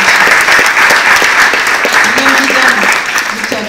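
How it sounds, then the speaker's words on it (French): An audience applauding after a presentation at a conference, loud sustained clapping from a crowd filling the room, with someone speaking over it near the end. "On peut vous applaudir."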